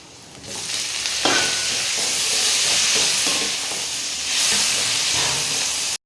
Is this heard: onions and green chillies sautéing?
yes